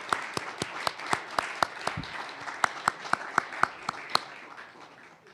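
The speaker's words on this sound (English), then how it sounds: "We'd love to at least clap for you" A small audience claps at a policy event, a sparse run of distinct individual claps in a loose, fairly even rhythm, moderately quiet.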